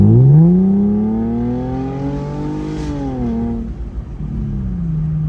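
Mercedes SLK 350 V6 engine revving hard as the car accelerates, a loud, rising harmonic roar that swells, then drops at a shift and pulls again, close and continuous.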